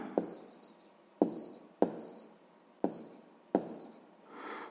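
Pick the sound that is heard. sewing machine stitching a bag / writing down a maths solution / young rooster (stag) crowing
writing down a maths solution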